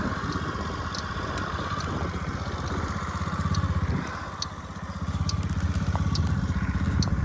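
A Honda Dio AF-68 scooter's small engine runs nearby at a steady idle with a buzzing, crackly putter, dipping briefly midway before picking back up, with faint ticking above and no speech.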